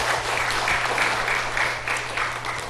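Congregation in a church Sunday worship service applauding together, a steady dense wash of clapping with rhythmic pulses throughout, close and fairly loud with no talk.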